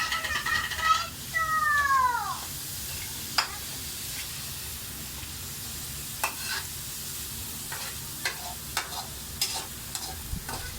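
Spatula scraping and stirring through sliced chayote and carrot sautéing in a pan, a series of short scrapes over a low background hiss, with a brief squeaky sound early on.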